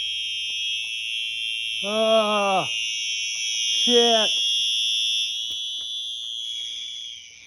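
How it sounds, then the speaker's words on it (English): A fire alarm going off inside a Menards store, a loud continuous electronic tone held across the whole stretch, with a person briefly exclaiming over it. "Stupid fire alarm."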